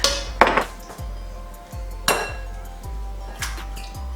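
Four eggs being cracked into a bowl for home baking: several sharp taps and clinks of shell on the rim come in a loose sequence, close and fairly loud, with a low thudding in between.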